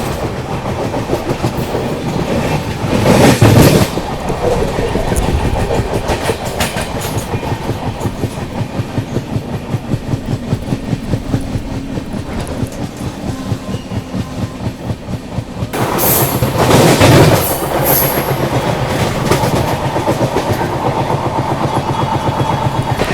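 The Lal Kuan Amritsar Express approaches close by, a loud passing train with a steady, rhythmic clickety-clack of wheels over rail joints and two louder bursts of rushing noise.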